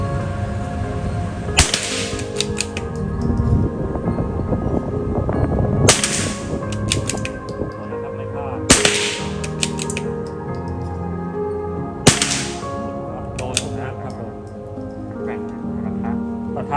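Four sharp, spaced cracks from a .22 LR rifle at a shooting range, close and loud, with someone talking continuously between and under the shots.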